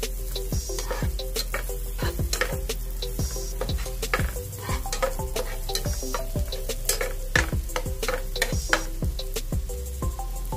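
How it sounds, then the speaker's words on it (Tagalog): Chopped onion frying in a pan until golden brown for a tuna creamy pasta, a constant loud sizzle broken by regular sharp scrapes and taps of a utensil stirring against the pan. "Kailangan natin mapa-golden brown itong ating onion."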